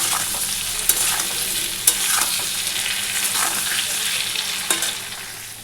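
Paneer curry with capsicum being sautéed in a pan makes a dense, steady sizzle, with a few sharp scraping strokes of a spatula heard up close and no voices.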